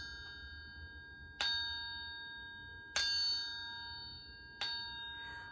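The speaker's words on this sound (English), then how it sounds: "This is an instrument called a triangle." Three clear metallic strikes on a triangle tapped with a small stick, each ringing bright and sustained before fading, spaced roughly a second and a half apart and heard alone, close up.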